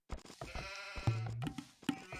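Sheep bleating in the Age of Empires 2 strategy game, several wavering bleats in a row, clear and close, with no talk over them.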